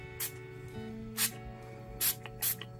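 A clear sleep mist spray, shaken first, gives four short airy pumps at uneven intervals over a quiet room hum.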